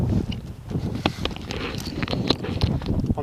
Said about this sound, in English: Probably sounds a bit windy.